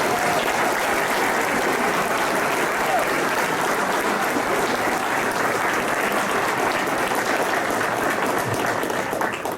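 A labor union audience of Teamsters at a political rally gives loud, sustained applause, a dense crowd clapping close by through the whole stretch.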